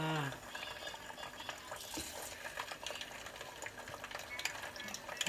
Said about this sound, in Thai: ตอนนี้เราก็เปิดน้ำมันแล้ว เราก็จะทอดปลา